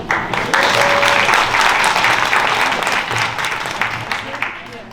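A crowd applauds loudly and steadily, the clapping dense and sustained for several seconds before easing off slightly at the end.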